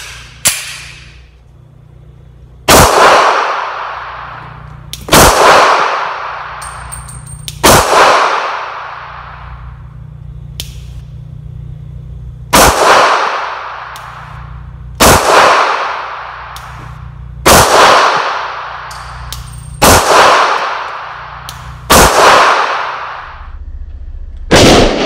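Pistol shots fired outdoors while testing a Sprinco recoil reducer, nine loud single reports at an uneven pace of a few seconds apart, each trailing off in a long echo.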